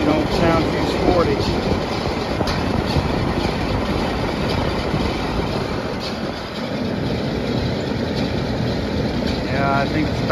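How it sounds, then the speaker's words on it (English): A failing condenser motor in a 1996 Carrier air conditioning unit that is low on refrigerant and close to locking up runs with a loud, steady, rough whirring roar, and a voice is faintly heard now and then. "that condenser motor sounds like she's gone off. About to lock up."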